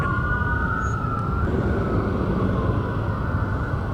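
Fire truck sirens wail steadily and loudly over a continuous road rumble, the tone holding then shifting slightly upward midway, with no voices.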